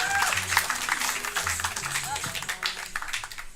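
A comedy showdown audience claps and cheers for a comedian, loud and close, with a host talking over the applause throughout.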